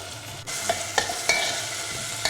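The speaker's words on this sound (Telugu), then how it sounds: "ఇవన్నీ కూడా 1 నిమిషం నూనెలో మగ్గిద్దాం" Chopped amla (Indian gooseberry) pieces and coriander sauté in hot oil with a continuous close sizzle, broken by a few sharp utensil clinks and stirring scrapes, no voices.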